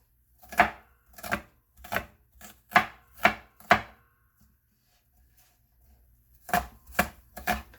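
A knife chops through callaloo leaves on a board in a run of sharp, evenly spaced strikes, about six, then a short pause and three more, loud and close with no talking.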